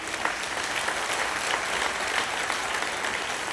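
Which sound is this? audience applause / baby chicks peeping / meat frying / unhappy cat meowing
audience applause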